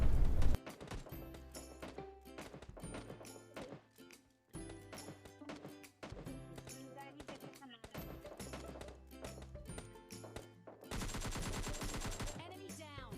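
Rapid bursts of automatic gunfire and single shots from PUBG Mobile Lite crackle in dense clusters with brief gaps, ending in a sustained louder volley, all heard without talk.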